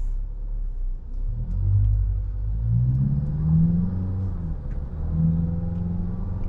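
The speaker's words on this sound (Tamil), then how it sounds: "ஸோ ஸ்போர்ட் மோடுன்றதெல்லாம் பார்த்தீங்கன்னா நமக்கு வந்து ரம்பிள் தெரியுது நல்லா" A Tata Safari in sport drive mode gives a steady, deep engine rumble heard from inside the cabin, with the tone rising and falling through a few swells as it accelerates. Nobody talks.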